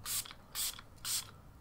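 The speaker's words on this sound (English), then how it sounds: "I want to set the rest of my face with the setting spray that was picked" Three short hissing spray bursts from a Catrice Prime and Fine Dewy Glow makeup setting spray pump bottle, evenly spaced and close up, with quiet pauses between them.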